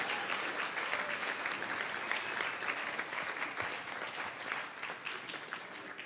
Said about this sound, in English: I think everyone here deserves a round of applause just for how awesome the wedding was.